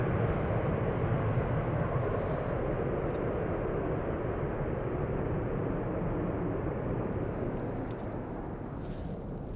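An airliner taxis toward the Polderbaan runway at Schiphol Airport, Amsterdam, with a continuous loud broadband engine roar that stays steady and dense throughout, easing only slightly near the end.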